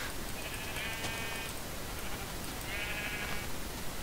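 Sheep bleating in the Minecraft video game, two drawn-out wavering bleats spaced a couple of seconds apart over a dense, steady background hiss.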